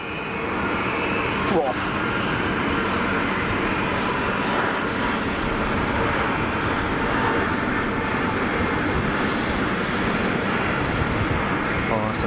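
An EasyJet jet airliner bound for Luton rolls for takeoff at Geneva Airport, a continuous loud broad engine roar that stays steady across the whole stretch.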